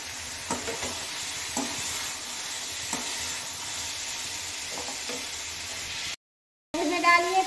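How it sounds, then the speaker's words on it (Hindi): Ground spices, including Kitchen King masala, fry and sizzle in a pan while being stirred, giving a steady hiss with soft periodic scrapes. The sound drops out briefly near the end, then returns louder. "इस मसाले को अच्छे से फ्राई कीजिए"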